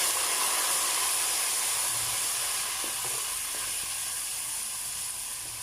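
Garlic-ginger paste fries in a pot while green chickpea pulao is cooked, giving a steady, close, broadband hiss and sizzle that holds evenly throughout with no voices.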